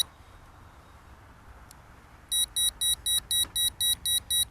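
Rapid high-pitched electronic beeps from a Visuo XS818 Zen Mini drone's camera as it moves, repeating in a steady pulsing pattern after a quiet start, sharp and close over a faint background hum.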